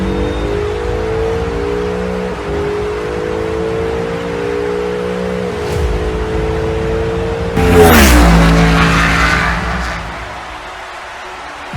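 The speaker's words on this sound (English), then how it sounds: "Coming up is his racing brother, the 94 Bugatti EB110 SS." A Hot Wheels diecast 1994 Bugatti EB110 SS races down a toy track with a steady whirring roll, swelling into a louder rattling rush near the end before fading out.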